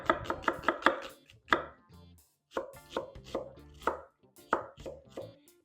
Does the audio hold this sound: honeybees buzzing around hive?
no